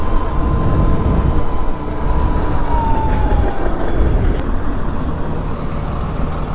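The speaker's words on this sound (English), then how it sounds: "Of course there's a train." Train passing a rail crossing, a loud continuous rumble and roar close by with a faint drawn-out wheel squeal and a sharp clank partway through.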